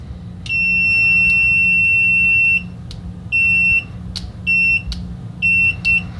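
A GVDA GD166B clamp meter in continuity mode gives off a high, piercing electronic beep, first one sustained tone of about two seconds, then several shorter beeps in quick on-off succession, loud and close.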